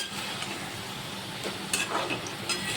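Steady sizzling of potatoes frying in a pan, a continuous hiss with a few brief scraping clinks from stirring.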